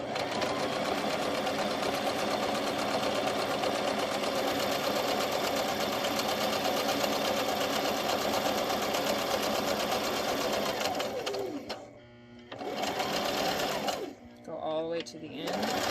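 A home sewing machine stitches a DIY scarf. It chatters in a fast, steady mechanical run, close and prominent, for about eleven seconds, then stops and starts again in a few short bursts.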